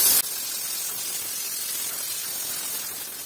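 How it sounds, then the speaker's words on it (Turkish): A steam cleaner blasts steam onto a limescaled water faucet, a loud continuous hiss that starts abruptly and holds steady without any talk. "burada da buharın değdiği yerler temizleniyor"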